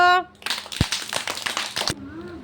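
Children at an anganwadi clapping together in a brief burst of quick, scattered claps lasting about a second and a half, framed by an adult voice speaking just before and after.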